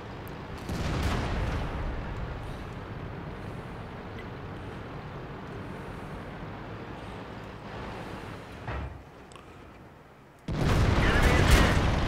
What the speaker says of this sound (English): The artillery is going to come down.